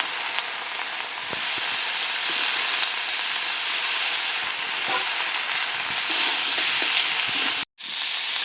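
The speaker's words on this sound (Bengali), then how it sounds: "এবারে আমি এখানে কেটে রাখা ফুলকপি আলু দিয়ে দেবো।" Chopped cauliflower, its stalks and potato sizzle steadily in hot oil in a pan, a loud continuous frying hiss with occasional crackles, cut by a brief silence near the end.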